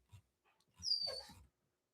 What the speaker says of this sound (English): Stop screaming at me, dog.